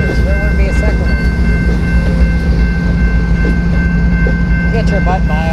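BNSF and Ferromex freight train switching cars at Slaton, Texas, rumbling loudly and steadily with wheel squeal and metallic clanks, heard close and continuous.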